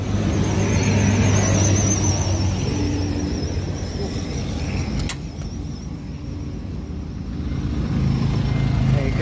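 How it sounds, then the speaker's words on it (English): A very quiet generator running under load gives a steady, low broadband hum throughout, with a faint high whine early on and a slight dip in level midway. "It is a very quiet generator."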